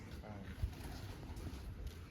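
Low, soft pigeon cooing murmurs through a steady background rumble at a village pigeon-flying gathering in Punjab, with faint voices somewhere in the mix.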